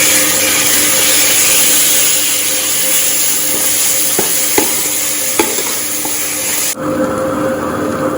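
Onion fries in a pan with ginger and garlic paste, a loud, steady sizzle running close up for several seconds with a few light stirring clicks, then the tone shifts abruptly near the end; no one speaks.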